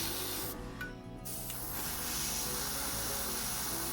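An airbrush hisses steadily as it sprays paint on a Gunpla model. The close, continuous spray cuts out for a moment early on, then resumes and carries on unbroken.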